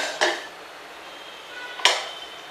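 Cooked wheat and rice are taken out of a cooled pressure cooker, making two sharp metallic clinks of utensils against the pot, spaced well apart, with quiet between them and no talking.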